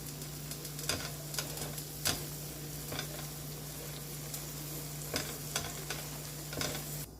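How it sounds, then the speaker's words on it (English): Diced onions cook down in butter in a pan with stirring, a steady low sizzle broken by a handful of sharp spoon scrapes and clinks spread through, close and fairly quiet with a constant low hum underneath. "Then I went ahead and I added my diced onions and I let that cook down."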